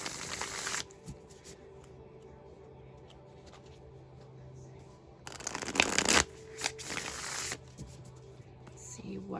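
Tarot deck shuffled by hand in two loud bursts of riffling and card slapping, close up, separated by a quieter stretch with faint low hum and soft handling noises.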